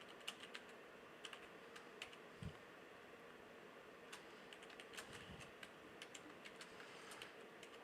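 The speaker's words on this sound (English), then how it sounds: "Woo, bad at typing." Typing on a computer keyboard while writing code for a compiler: irregular bursts of quiet, crisp key clicks close by, with brief pauses between runs and a faint steady fan hum underneath.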